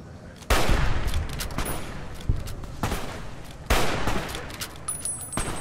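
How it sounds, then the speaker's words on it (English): Gunfire shootout in Fallout: New Vegas on the Strip, with loud repeated gun blasts in bursts and crackling rapid fire, several sharp heavy shots punctuating a continuous noisy firefight. "This is a good old-fashioned shootout on the strip."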